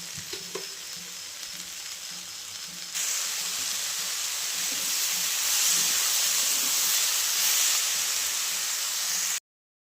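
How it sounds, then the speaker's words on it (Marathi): Onion and lentils cook with salt in a pot over high heat, giving a loud, steady sizzling hiss that grows stronger partway through and then cuts off abruptly. "आता चवण्याचं मीठ टाकते आणि कांदा आणि डाळ चांगलं शिजवून घेते"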